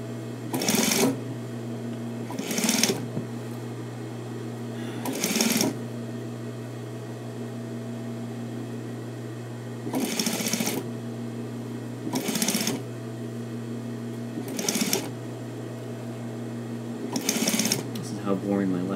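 In a studio where coats are being made, a sewing machine runs in several short bursts of rapid stitching over a steady low motor hum, close by, with pauses between runs.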